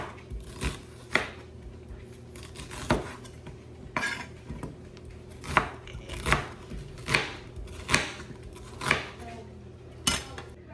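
An onion roughly chopped on a cutting board for a marinade: a steady series of about a dozen crisp knife thuds, evenly spaced and close, with no talk.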